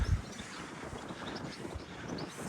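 Steady wind buffets the microphone outdoors at a churchyard near the sea in Walcott, Norfolk, a low rumbling rush with gusty flutter and no voices.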